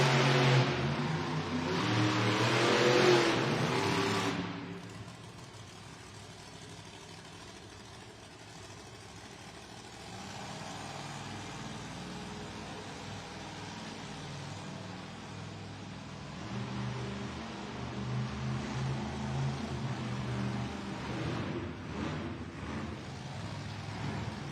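Monster trucks race around an indoor arena, their big engines revving hard and loud at the start, dropping to a rumbling idle-like drone, then building again into sustained roaring throttle in the distance.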